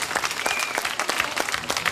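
Audience in Ruvo di Puglia applauding a third-place contestant at a local talent show, a steady dense burst of clapping from a crowd with no pauses.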